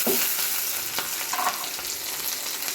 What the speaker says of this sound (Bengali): অন্য কড়াইয়ে এখন পেঁয়াজ দিয়ে দিব।